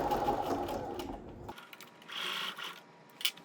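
A sewing machine stitches quilt fabric for a table runner in a short, close burst of rapid mechanical whirring. The sound stops suddenly and is followed by quieter handling noises and a faint clack.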